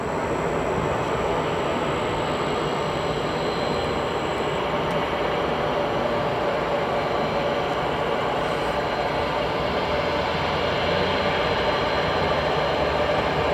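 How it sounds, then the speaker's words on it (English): A Cargolux Boeing 747-8 freighter departs O'Hare's runway 10 Left with a loud, continuous broadband jet roar that holds steady and slightly swells, heard from outdoors with no talk. "We have Cargo Lux. 747-8 headed to Luxembourg."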